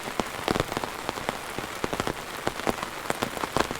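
Heavy rain pours steadily on a hiking trail at Trout Lake in Yellowstone, a dense close hiss dotted with sharper drops striking surfaces throughout, with no voices.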